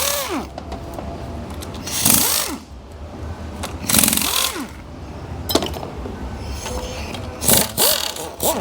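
A socket wrench working a bolt on a 4L80E transmission, heard as close, loud metallic ratcheting and clanking in repeated bursts with brief pauses between strokes, and no talking.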